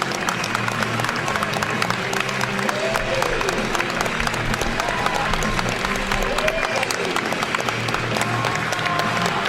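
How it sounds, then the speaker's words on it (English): A standing basketball crowd at a high school boys' game applauds and cheers, a loud dense wash of clapping and shouts sustained throughout. "the crowd stands to their feet, and their team joins Christian to celebrate"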